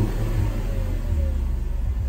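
Engine of a 1990s Ford F-150 pickup running with its air intake removed, heard from inside the cab while driving: a low, steady rumbling drone with mild revving swells, fairly quiet and continuous.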